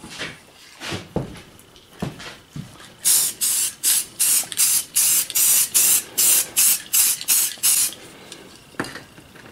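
Red spray paint is applied to tile in a series of short, loud, hissing bursts that repeat in a fairly even rhythm at close range, with quieter handling sounds before and after.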